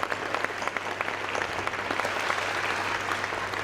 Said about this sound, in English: let's give another round of applause to Joe and the BCU team.